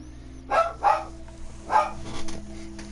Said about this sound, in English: Sorry about the noise, guys.